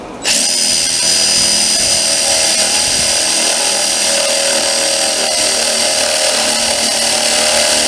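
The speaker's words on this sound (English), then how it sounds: "See that drill bit's going in right in the center line of the side stretcher" Power drill boring mortises into the center line of a side stretcher for a bow back Windsor chair, a loud continuous whine close by that starts abruptly and holds steady throughout.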